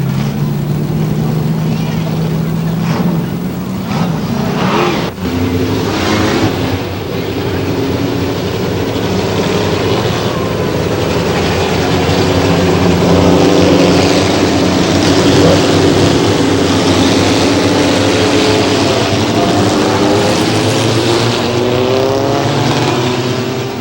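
Stock cars race at a speedway, with a loud, sustained engine roar rising and falling as the field passes close by, and a voice faintly under the noise.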